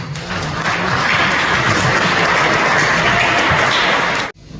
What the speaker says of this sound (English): Please can we give both Michael and Jake a round of applause